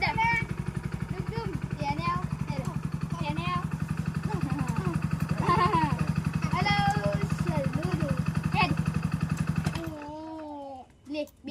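A motorcycle engine idles with a low, steady throbbing pulse while adults and someone talk over it, then the engine cuts off near the end, leaving quieter voices.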